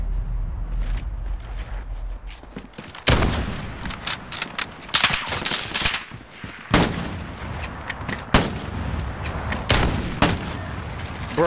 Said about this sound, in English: Yo, that's Uzi, dude!